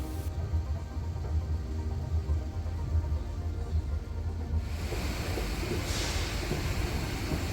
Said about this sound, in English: Oops, our Skyline train just left.